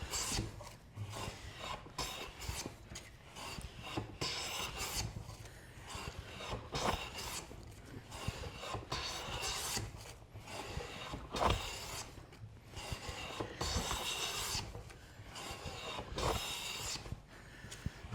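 Repeated rasping strokes of a Taylor Tools Bedrock hand plane shaving a wooden board wider than the blade, side to side, coming in quick irregular bursts with a scraping, rubbing texture.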